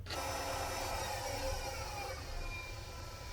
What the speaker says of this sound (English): Now I'm going to sand this with 240 grit sandpaper dry